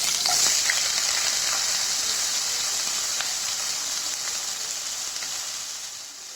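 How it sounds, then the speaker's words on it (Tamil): Chopped onion and fennel seeds frying in hot oil, a steady close sizzle with fine crackling that holds throughout and eases slightly near the end, with no voices over it. "ஆயில் கொஞ்சம் சூடானதுக்கப்புறம் கொஞ்சம் சோம்பு போட்டுக்கலாம். சாப் பண்ணி வச்சுருக்க ஆனியனை ஆட் பண்ணிக்கலாம்."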